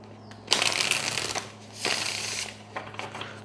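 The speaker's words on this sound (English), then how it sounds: "Let's get one more shuffle." A deck of tarot cards is riffled and shuffled by hand, close up, in two crisp rustling bursts followed by lighter card taps, with no talking.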